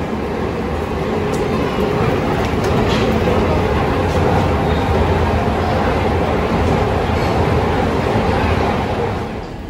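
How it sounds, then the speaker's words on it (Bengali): The Darjeeling toy train rumbles at Kurseong station, a loud continuous rolling roar with faint rattling that holds steady for several seconds. "ওই যে আমার টয় ট্রেন"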